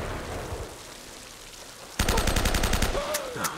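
Gunfire in the video game Uncharted: Drake's Fortune, a sudden burst of rapid repeated shots after a quiet stretch, then a few more scattered shots over game ambience.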